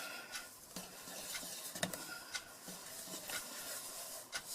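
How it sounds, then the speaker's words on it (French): Flour being stirred slowly into Nesquik cake batter in a bowl, faint soft scraping and swishing strokes with a few light clinks of the utensil, quiet and close, no voices. "On va tout simplement commencer à remuer tranquillement pour éviter qu'il y ait trop de grumeaux par la suite."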